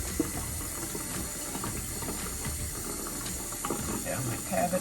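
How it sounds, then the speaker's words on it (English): Tap water runs steadily while a turkey is rinsed in a kitchen sink, a constant broadband splashing and gurgling with faint clicks and rattles, fairly quiet and without speech. "Feel the water coming through."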